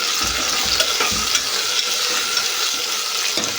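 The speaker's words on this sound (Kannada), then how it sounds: "ಅದನ್ನು ಎಣ್ಣೆಯಲ್ಲಿ ಚೆನ್ನಾಗಿ ಸ್ವಲ್ಪ ಫ್ರೈ ಮಾಡಿಕೊಡ್ರಿ" Half-boiled green peas fry in hot oil for a vegetable biryani, a loud continuous hiss of sizzling with soft thuds of stirring underneath.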